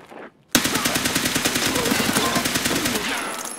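Automatic gunfire in Escape from Tarkov on the Interchange map: after a brief quiet moment a loud, close burst begins, then rapid evenly spaced shots continue without pause to the end.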